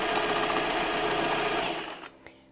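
A sewing machine runs a wide zigzag stitch along the edge of a denim jean tote, a fast, steady, close mechanical whir that slows and stops near the end.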